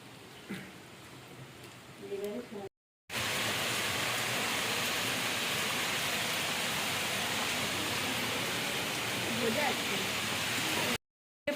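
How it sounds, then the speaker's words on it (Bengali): Heavy rain pouring down at night during a power cut, first a few seconds of quieter room sound with a voice, then a loud, dense, steady roar of downpour lasting several seconds before cutting off. "প্রচণ্ড জোরে বৃষ্টি শুরু হয়ে গেছে"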